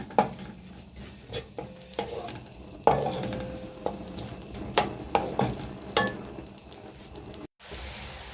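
Two large onions sizzle steadily in a pan, browning lightly, while a utensil scrapes and stirs in irregular bursts, close up, with no voices.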